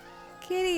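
A single close cat meow in Kingdom Come: Deliverance II, a short rising-falling cry that starts suddenly after a quiet ambient stretch and holds steadily to the end.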